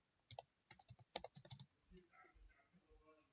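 Rapid bursts of computer keyboard typing, crisp individual key clicks in quick clusters followed by a few softer, scattered taps, close and clear in a quiet room.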